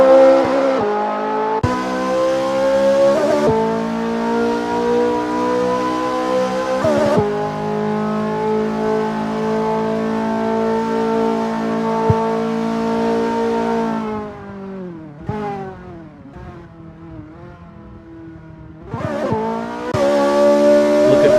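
A Ferrari F355 race car in Assetto Corsa revving hard through the gears, its engine note climbing and dropping with quick shifts, then easing off briefly before accelerating loudly again, with faint tire squeal.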